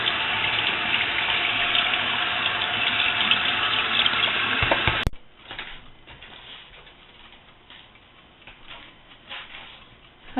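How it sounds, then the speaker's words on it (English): Cold tap water runs steadily over drained rotini pasta in a kitchen sink, a loud continuous splashing rush for about five seconds that cuts off abruptly, leaving quiet room tone. "I'm going to rinse it with some cold water"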